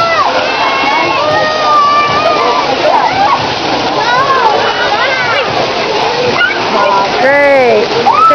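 Water splashing in the wet kids' play area of Dragonland at Busch Gardens: continuous loud spray and splatter mixed with a busy crowd of children shouting and squealing nearby, and voices talking throughout.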